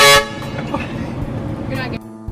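A car horn blares loudly in a short toot, then street noise and chatter continue, with another brief horn at the end.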